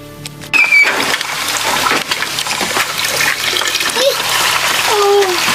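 Water pouring and splashing into an irrigation drum on a farm, a loud continuous gushing rush that starts abruptly and carries on steadily, with brief squeaky sounds and faint voices in the background.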